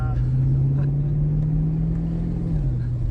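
A Holden VC SLE wagon engine drones steadily from inside the car while driving, a low constant hum that dips slightly near the end.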